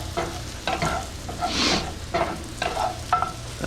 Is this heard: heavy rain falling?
no